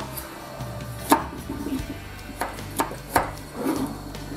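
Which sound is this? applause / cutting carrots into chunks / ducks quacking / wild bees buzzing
cutting carrots into chunks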